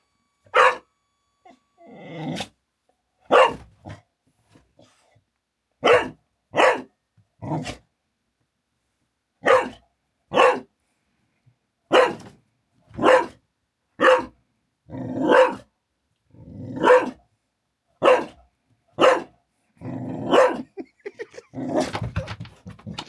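A dog barks loudly in sharp, separate bursts, close by, with short pauses between, ending in a rapid flurry of yaps and growly barks.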